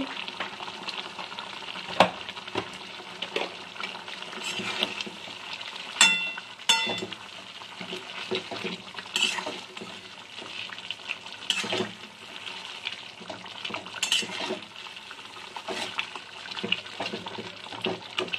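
Homemade cumin-coriander powder and chili powder fry in a pan as the masala is stirred, giving a steady close sizzle broken by scraping stirs and occasional sharp clicks, with no talking.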